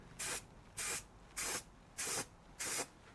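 Five evenly spaced bursts of aerosol spray paint hiss onto a car's inner wing during a Vauxhall Royale Coupe restoration, each about a quarter second long with short quiet gaps between.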